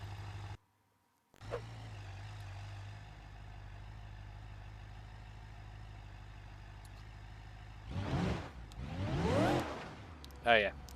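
Idling car engine fitted with a dual exhaust in BeamNG.drive, a steady low drone running for most of the stretch after a brief cut to silence near the start, then swelling in two revving bursts toward the end.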